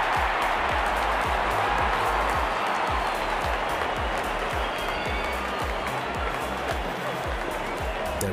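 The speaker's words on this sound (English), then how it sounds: "Openers walking in and the crowd cheering in anticipation." Stadium crowd cheering in the cricket video game Real Cricket 22 during an India vs Bangladesh match, a dense continuous roar of applause and voices that stays loud and steady throughout.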